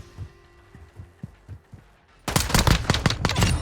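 Rapid gunfire from a secondary pistol during a drop shot in Modern Warfare II multiplayer, first a series of separated muffled shots, then a loud, dense burst of cracking rounds at close range.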